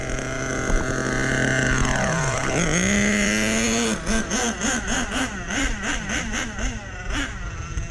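A nitro RC truck engine being broken in at half throttle runs with a steady buzzing drone, then dips and rises in pitch before settling into a rapid series of rhythmic revs, loud and close, with no talk over it.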